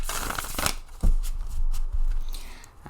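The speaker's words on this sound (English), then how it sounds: "So let's give it a shuffle." A deck of tarot cards being shuffled by hand, with fast riffling flutters and soft slaps in a couple of bursts, close and on their own.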